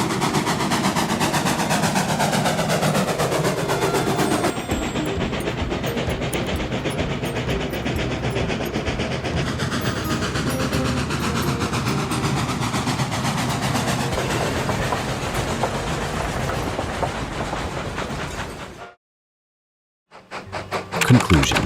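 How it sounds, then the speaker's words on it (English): A classic steam train runs with a dense, loud, continuous mechanical roar and rapid rhythmic clatter that holds steady, cuts out briefly near the end, then returns. "When the train crests the top, the engine sound softens, like iron and steel breathing out"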